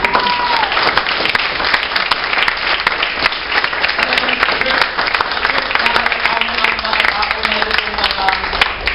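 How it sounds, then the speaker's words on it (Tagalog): A congregation at an El Shaddai prayer gathering in Kuwait claps loudly and continuously for nearly nine seconds, with voices faintly audible beneath the dense, sustained applause. "Halata po yung mga palakpak."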